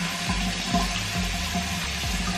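Tap water running steadily into a sink for rinsing off a charcoal face scrub, a continuous close splashing rush with no talking.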